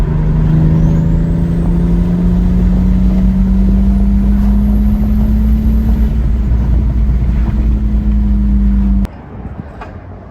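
A turbocharged BMW car cruises with a steady, droning engine tone and a faint rising turbo whine, sustained and loud, cutting off abruptly near the end.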